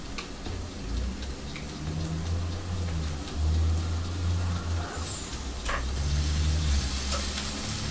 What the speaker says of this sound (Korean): 지글거리는 소리가 난다.